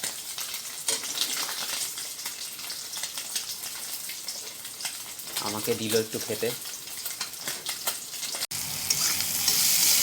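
Fresh puti fish sizzle continuously in hot oil, loud and close, with someone talking briefly partway through. Near the end there is a cut, and after it the hiss sounds brighter.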